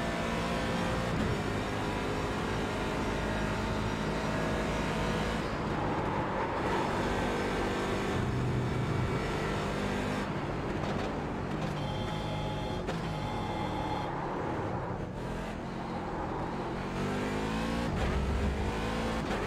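Race car engine in the iRacing simulator during an IMSA event, a loud, continuous drone rising and falling as the car accelerates and shifts through gears, with no talking.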